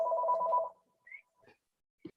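A telephone ringing in a room at a candidate forum, a single loud electronic ring that cuts off after under a second, followed by faint scattered room noises.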